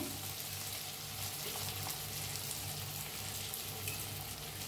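Tomato and onion roast in a pan with chili powder, giving a faint, constant sizzle with soft stirring noises beneath it and no voices.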